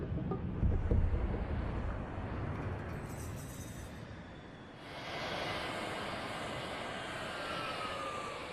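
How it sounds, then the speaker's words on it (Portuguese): A jet aircraft cruising at high altitude produces a steady, broad distant roar with wind-like rushing that swells slightly partway through, heard alone without voices. "Mike Zolensky, um cientista da NASA, envia jatos de grande altitude para peneirar partículas no céu."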